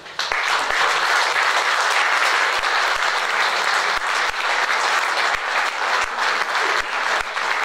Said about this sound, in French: Et je crois qu'on peut les applaudir aussi.